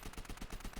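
MP40 submachine gun firing in Call of Duty: World at War, a rapid burst of about eight evenly spaced shots with a deep, bassy boom behind each, loud and alone.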